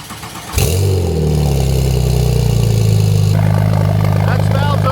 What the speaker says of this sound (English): we can get a cold start on the new exhaust.